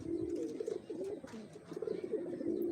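Released pigeons, including Giribaz birds, coo in soft, repeated low throaty phrases, quiet and fairly close, with no talking.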